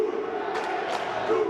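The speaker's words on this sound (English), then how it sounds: "Football fans around the world celebrated the start of the 2026 FIFA World Cup with cheering, chanting, and waving flags" Football fans celebrating at the 2026 FIFA World Cup, a crowd roaring and chanting with a few louder swells and shouts, fairly close and continuous.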